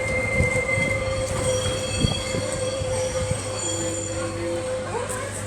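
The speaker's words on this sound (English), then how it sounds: "The tram is coming back." A tram on the Bennett Brook Railway at Whiteman Park rolls along its rails with a sustained high wheel squeal over a low steady rumble, plus a few sharp clanks and a rising squeal near the end.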